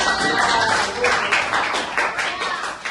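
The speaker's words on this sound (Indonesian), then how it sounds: "Terima kasih tepuk tangan." Students clap during a classroom guidance lesson, a loud dense burst of hand claps filling the room, steady and continuous for a few seconds.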